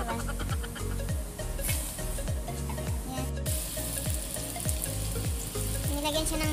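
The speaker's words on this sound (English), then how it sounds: "Nilagyan siya ng mantika. Saka ginisa na yung bawang at saka sibuyas." Garlic and onion sauté in cooking oil in a pan as the base for a spicy Sri Lankan-style fish dish, producing a steady close-up sizzle and crackle throughout.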